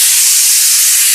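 A pressure cooker vents steam while mutton curry cooks, giving a loud, steady, bright hiss that lasts about a second with no voices over it.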